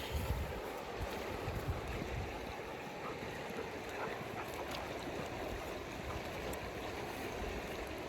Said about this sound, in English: This is the river I grew up on.